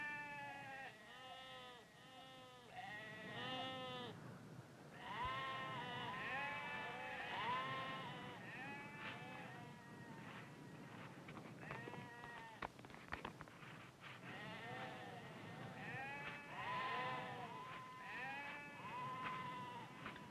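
Several sheep bleat repeatedly on a Navajo sheep-herding range, overlapping cries near and farther off, wavering calls with no talking.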